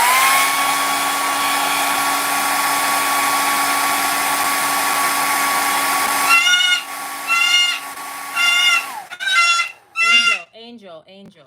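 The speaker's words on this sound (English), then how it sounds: "Let me get my blow dryer, do a quick blow dry." A handheld blow dryer runs loud and steady with a constant whine for about nine seconds, used to dry an orange layer on a cardinal craft, then cuts off as a bird squawks and screeches nearby in short bursts.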